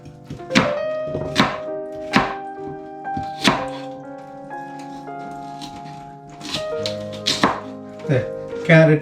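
A knife chops carrots on a cutting board in a home kitchen, making a series of sharp, close thunks in irregular bursts of two or three strokes with short pauses between them. No one speaks.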